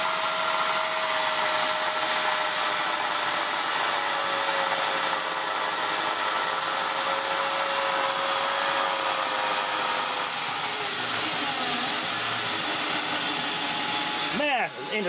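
A Chinese electric motor runs on a variac with a loud, steady whine and a broadband roar. Near the end the tone drops and wavers sharply as the speed changes.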